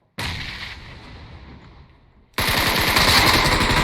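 An explosion in the game One M, a blast that fades over about two seconds, then a sudden loud burst of rapid gunfire-like crackling that carries on steadily to the end, with no talk.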